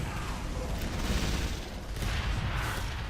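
Rapid critical-hit gunfire from Scout players in Team Fortress 2 rattles in a dense, continuous barrage, loud and close with overlapping shots throughout.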